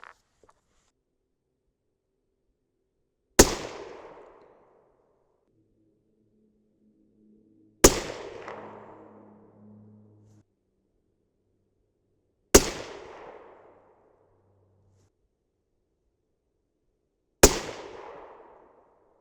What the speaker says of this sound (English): First shot is high.